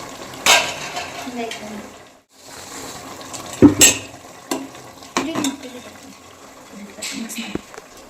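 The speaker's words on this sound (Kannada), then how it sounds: "ಮಿಕ್ಸ್ ಮಾಡಿ ನೀಟಾಗಿ ಮೊಟ್ಟೆ ಕಲಿಸೋಯ್ತು" Home-laid hen's eggs stirred and mixed in a cooking pan: a spoon scrapes and knocks against the metal in irregular bursts, close by, with a soft sizzle between strokes and a moment of near silence partway through.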